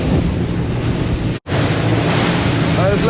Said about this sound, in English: These big rollers over here.